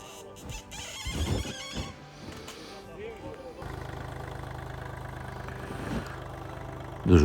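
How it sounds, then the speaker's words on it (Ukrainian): A small tractor engine runs steadily near a construction site, with a low, continuous rumble that grows louder and fuller partway through while people talk over it. "чудовий, гарний тракторець, маленький, але досить класно працює"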